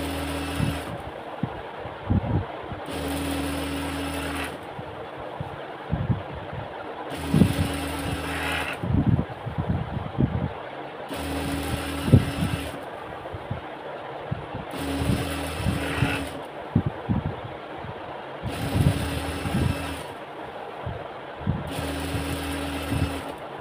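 A sewing machine stitches a salwar in repeated bursts, each a few seconds long and separated by brief pauses, steady and close with light handling noises between runs.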